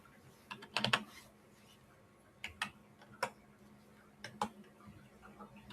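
Computer keyboard keys typed in short bursts of sharp clicks with pauses between, quiet and close, with no talking.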